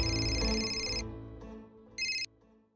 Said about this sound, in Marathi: हा आणि फोन सुद्धा येतोय